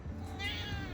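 A cat gives one short, fairly faint meow, rising and falling, against low background hum with no talk.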